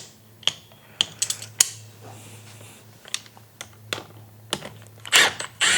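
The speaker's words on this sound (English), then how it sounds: "While we're here though, we'll get the sprocket off." An engine sprocket comes off a 450R engine held with a clutch holding tool, sounding as close, sharp metallic clicks and clacks at irregular intervals, with a faint low hum underneath and a louder scraping rattle near the end.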